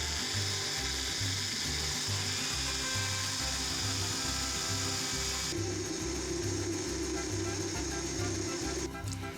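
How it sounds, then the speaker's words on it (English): Mole verde sauce is pureed in a kitchen blender, a loud, close, steady motor whir with a rhythmic churning pulse that shifts pitch partway through as the mixture smooths, running without any talking. "Now blend until you have a smooth puree."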